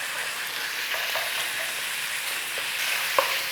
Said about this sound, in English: Just break it up as you go with a mince and brown it off.